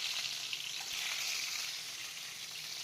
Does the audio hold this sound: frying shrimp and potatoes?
yes